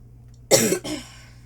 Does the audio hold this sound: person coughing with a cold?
yes